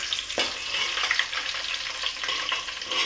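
Garlic sizzles steadily in hot oil in a pan for chicken sukka, a dense crackling hiss with a few small spatters, loud and close with no talking.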